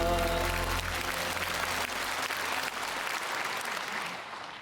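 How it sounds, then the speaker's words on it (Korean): A congregation at Myungsung Church in Korea bursts into sustained applause during a worship service as a held musical chord fades at the start, and the clapping tapers off near the end. "주님께 우리 주님께 영광의 박수 올려드립니다."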